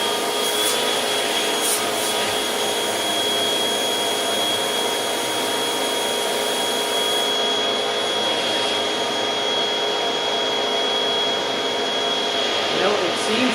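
A Hoover Windtunnel 2 HC Pet vacuum cleaner runs over a pet bed, giving a loud, steady whine and roar close to the microphone, with scraping and rubbing as it is pushed across the fabric.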